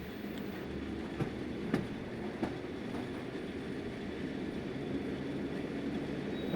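An AC electric multiple unit train on the Chennai Beach to Chengalpattu line rumbles steadily along the track after leaving Tambaram, with faint rhythmic clicks and knocks from the wheels over the rails.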